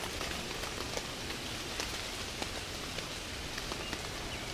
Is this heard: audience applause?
no